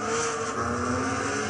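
A Ferrari 599XX Evoluzione race car from 2012 howls at high revs in Gran Turismo 6 on the Nordschleife, a brief, steady and loud engine scream with no talk.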